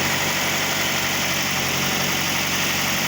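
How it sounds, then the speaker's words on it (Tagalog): Toyota Vios engine idling quietly, a steady, even hum with a faint hiss that stays level and close throughout, with no voices. "tahimik ang andar niya maganda ang andar niya ngayon"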